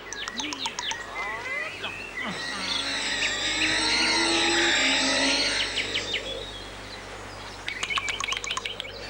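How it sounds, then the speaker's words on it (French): Bird in a magic forest setting, giving a long, loud warbling call that rises and falls, with sharper chirps before and after, mixed with voices. "Va-t'en, vilain oiseau!"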